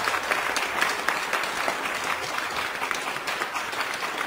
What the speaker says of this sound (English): I want the applause to die down